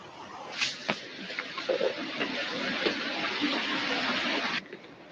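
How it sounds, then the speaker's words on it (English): Steady broadband rush of running water in a desert boulder field at first light, continuous and moderately close, with a few brief knocks and small splashes over it before it cuts off near the end. "Is that running water"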